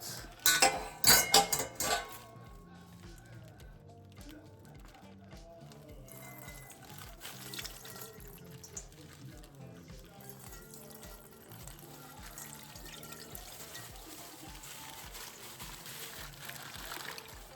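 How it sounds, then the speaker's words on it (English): Juices trickle and pour steadily from a smoked pork butt that has just been cut open, with a few sharp utensil clinks early on before the liquid settles into a continuous flow. "I'm gonna cut this thing open and get the juices out."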